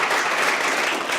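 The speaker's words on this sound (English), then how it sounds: "why don't you guys give yourselves a round of applause for teaching each other" Short burst of steady group applause from participants at an agile workshop, a dense even clatter of many hands.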